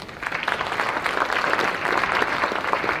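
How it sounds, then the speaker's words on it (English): Steady, dense clapping from an audience at a spelling bee fills the whole stretch at an even, sustained level, with no pauses. "nice round of applause for Mrs. Carrie O'Reilly."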